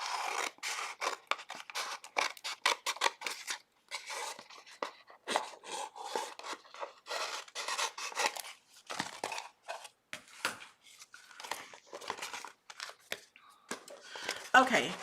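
Scissors snip and slice through an infusible ink transfer sheet in a run of quick crisp cuts, heard close up in a craft session for a layered T-shirt design, with short pauses between bursts.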